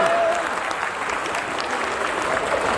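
Audience at a Hindi comic poetry recital clapping, dense sustained applause from many hands at steady volume throughout.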